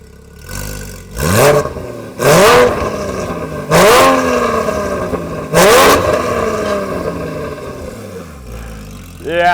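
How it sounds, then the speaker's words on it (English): A Porsche GT4 engine revs hard four times in quick succession, each loud exhaust blip climbing then falling back to a steady idle between bursts. "we're doing an exhaust comparison"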